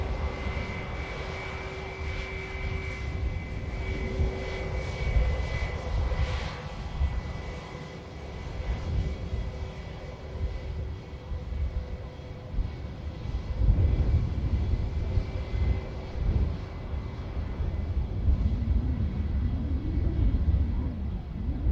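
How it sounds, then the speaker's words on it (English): KLM and Brussels Airlines Airbus A320neo jets taxiing at Manchester Airport, a steady loud engine roar and rumble that swells midway and holds, with no talk over it. "The KLM Neo is on the way out, and the Brussels is just beginning its taxi any moment now as well."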